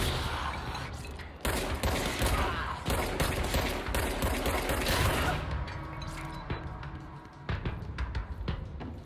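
Rapid bursts of gunfire aimed at an elevator speaker in the video game Control, dense and loud for several seconds before thinning into separate sharp shots and mechanical clatter.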